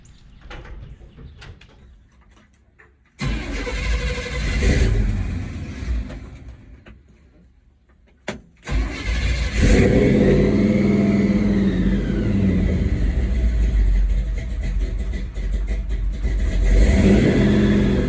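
A supercharged ramp truck engine fires up after a quiet stretch, revving hard in bursts, then roars steadily and loudly through burnouts, close and without talking.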